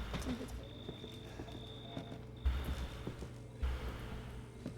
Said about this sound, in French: J'ai entendu des bruits de pas.